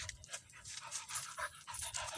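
A large dog pants in quick, rhythmic breaths, close and fairly soft, with short bursty exhalations repeating steadily throughout.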